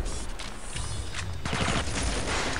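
Rapid rifle gunfire in the shooter game Red Faction 2, dense bursts of overlapping shots rattling continuously and loudly, intensifying midway with heavier impacts.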